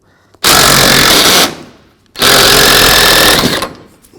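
A power impact wrench removes the last bolt from the strut assembly of a 2006-2010 Volkswagen Jetta, two loud sustained bursts of about a second each, separated by a short pause, with no talk.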